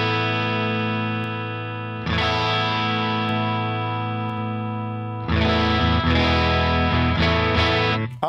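Electric guitar played through a ToneX virtual cabinet captured with a ribbon mic, with sustained distorted chords ringing out, a pause near two seconds, then a louder strummed section, heavy with effects and no talking.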